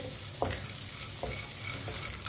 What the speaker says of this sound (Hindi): इसे 2 मिनट के लिए चम्मच चलाते हुए भून लेंगे